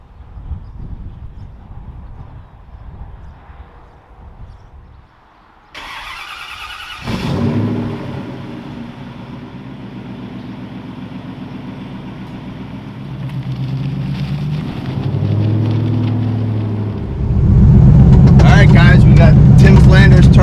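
After a quiet stretch with faint sounds, a 1986 Fox-body Mustang with a single-turbo Coyote V8 starts and climbs through revs in loud, rising pulls, ending in a heavy roar up close.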